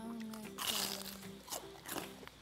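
Crisp crunching bites of fried perilla-leaf fritters, a few loud crackling bursts close to the mic, with a faint voice murmuring underneath.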